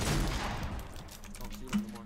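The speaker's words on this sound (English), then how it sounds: "Keep shooting." Gunfire in the Fortnite video game, a dense continuous fusillade of rapid shots across the whole short stretch, loud and busy with no clear breaks.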